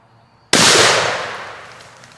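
A single sharp shotgun-like blast fired at a turkey during a Michigan turkey hunt, loud and close, with a long decaying echo after a quiet start.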